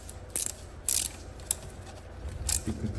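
A ratchet tightens the lock nut on a Honda XL 125 R motorcycle, giving several short, sharp metallic clicks in an uneven rhythm, close by over a low background hum.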